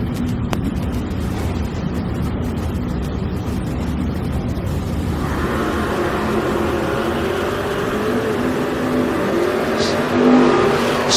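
At a drag strip, race cars including an '88 Mustang and a Cougar roar down the track, a loud continuous engine drone that shifts in tone midway and swells near the end.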